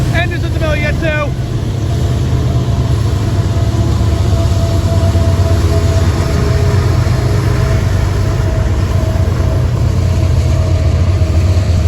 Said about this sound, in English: This is what I call a big old coal train.